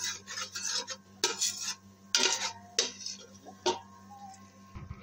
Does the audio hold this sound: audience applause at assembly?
no